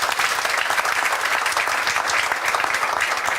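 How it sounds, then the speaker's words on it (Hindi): Loud, sustained applause from a seated audience at a motivational coaching event, with many hands clapping densely and evenly throughout and no talk over it. "जोरदार तालियां बजाओ।"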